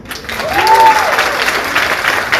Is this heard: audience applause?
yes